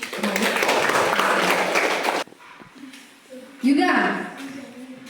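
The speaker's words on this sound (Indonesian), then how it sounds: "beri tepuk tangan untuk" Classroom applause for a student group after a presentation, a loud burst of clapping for about two seconds that stops abruptly, followed by talking.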